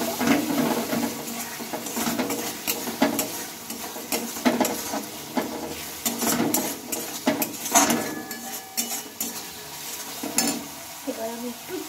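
A pan of egg and potato curry being stirred, a spoon scraping and clinking against the metal in a steady repeated rhythm, with a soft sizzle underneath, close and moderately loud.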